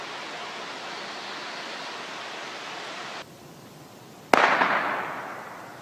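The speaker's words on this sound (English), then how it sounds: "That was a gunshot." A single sharp gunshot cracks out in a forest over steady rushing background noise, followed by a lingering echo that fades away.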